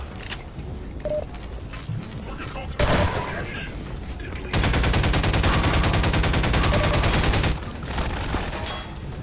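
Shotgun fire in the horror video game Night Owl: a sharp loud blast, then a dense steady rattling stretch of gunfire and mechanical noise for about three seconds over game ambience, with someone talking in between.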